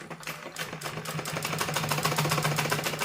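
A sewing machine stitches pleats into a salwar, a fast, steady run of close mechanical clicks and hum that grows a little louder as it goes, heard alone.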